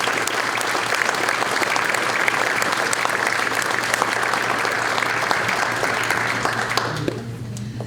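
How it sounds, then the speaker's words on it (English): Sustained, dense applause from an audience at a chamber of commerce awards breakfast honouring members, steady and full for most of the stretch, then thinning and dropping off near the end. "let's give them all a huge round of applause"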